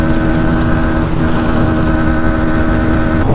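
A Bajaj Pulsar NS 125 or TVS Raider 125cc motorcycle engine screams steadily at high revs against the rev limiter during a race, loud, close and unbroken for the whole stretch.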